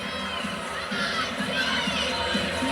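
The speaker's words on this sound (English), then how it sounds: "And lots of boos, Connor." Arena crowd at a women's college gymnastics meet between UCLA and Utah, booing a judges' floor routine score, a sustained loud mass of disapproving voices filling the venue, with a commentator faintly audible.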